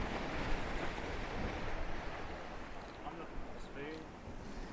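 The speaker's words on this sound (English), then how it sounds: "you can see where the waves are coming in here, look." Ocean waves rolling in at Playa Blanca, Lanzarote, as a steady, washing surf roar with gusty wind buffeting the microphone, continuous and fairly distant throughout.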